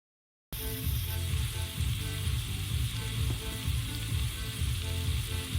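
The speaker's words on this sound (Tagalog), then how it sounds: "ako pa na siyang gigisal kauban sa lamas" Squid sautéing with spices in a hot pan gives a steady, close sizzle and frying crackle that holds evenly throughout, with no voices.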